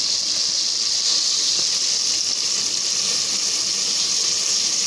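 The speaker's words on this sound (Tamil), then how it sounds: "அது நல்லா வதங்கட்டும்." Ingredients such as ginger and garlic sautéing in a pressure cooker for prawn biryani, giving a loud, steady, continuous sizzling hiss throughout with no talking.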